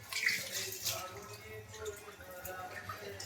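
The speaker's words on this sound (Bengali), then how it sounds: "এই যে মাংসটাকে ভালো করে একটু ধুয়ে নিই" Chicken meat being washed in a kitchen under running tap water, a steady close splashing and trickling with small drips throughout, no voices.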